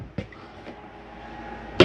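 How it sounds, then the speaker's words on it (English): A camper trailer door on a Jayco Eagle HT travel trailer swings shut, with a soft knock near the start and a sharp, close latching thud at the end. "We're going to secure this door,"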